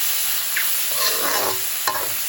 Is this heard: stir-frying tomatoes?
yes